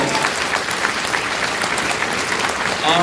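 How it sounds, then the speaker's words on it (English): Brief burst of dense audience clapping at a closing ceremony, steady and lively for a few seconds with a few cheers mixed in. "So a round of applause for Morgan."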